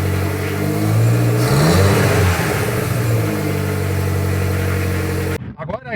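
Chevrolet Celta engine with an aftermarket sport exhaust tip revving up and settling back, a loud close throaty drone rising and falling, with a voice breaking in at the end.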